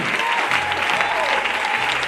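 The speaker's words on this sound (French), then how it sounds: "Dans l'acclamation à Jésus" A church congregation applauds steadily throughout, dense clapping filling the space with a faint tone ringing underneath.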